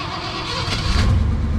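A 1984 Ford F150 pickup engine cranks and catches after sitting unused with a weak battery, a low rumbling turnover that swells into a rough idle, close by and alone.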